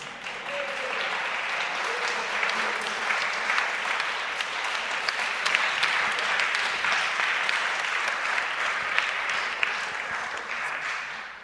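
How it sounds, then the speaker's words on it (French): A congregation at a worship concert applauds steadily and densely, a sustained close wash of clapping with no break, a few faint voices underneath. "On applaudit le Seigneur, j'ai l'impression."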